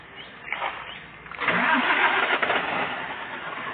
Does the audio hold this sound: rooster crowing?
no